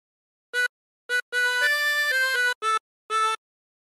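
Phrase of a melody on a 16-hole tremolo harmonica, with short separate blown and drawn notes, then a longer run of linked notes and two more short notes, bright and reedy, played alone.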